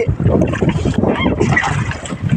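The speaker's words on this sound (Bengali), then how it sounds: "আমরা ছোট ছোটো নৌকাতে ঘুরতাছি" A small boat moves across Kaptai Lake in Rangamati, giving a close, continuous rumble of motor and water rush with wind buffeting the microphone, and faint voices mixed into the noise.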